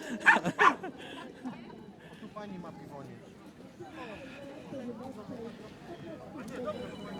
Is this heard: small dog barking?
yes